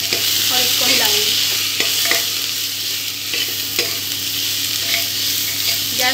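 Red chili, cumin powder and turmeric fry in a pan with a steady, loud sizzle while a spoon stirs through them, scraping and tapping now and then, close up and without voices.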